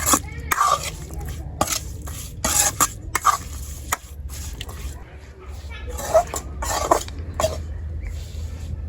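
Small river fish are mixed by hand with chilli powder and raw oil for a village curry, heard as wet squelching and scraping in bursts, close by, under loud speech and a cough.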